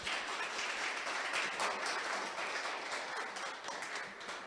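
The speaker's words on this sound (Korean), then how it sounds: "감사의 박수 부탁드립니다." An audience at a startup forum in Gwangju claps in thanks, a soft, even patter of many hands heard at a distance and at low level, steady throughout.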